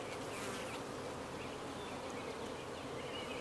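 Honeybees swarm around an open backyard hive in late July, producing a dense, continuous buzz with individual bees droning past close by.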